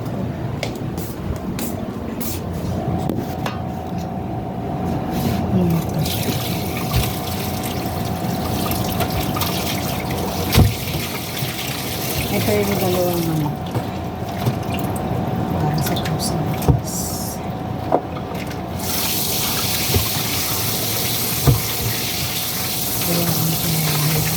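Water runs continuously from a pipe with a steady gushing wash, and occasional drips and knocks sound through it.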